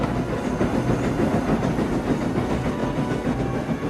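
Steam engine train rushing along the track, a continuous rumbling roar with rapid rhythmic clatter and hiss, loud and close throughout without speech.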